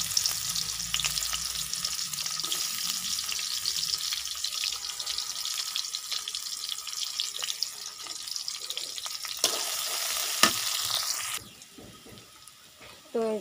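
Chopped onions frying in a pan make a steady, busy sizzle for most of the stretch, then it drops away abruptly near the end, leaving a quieter background.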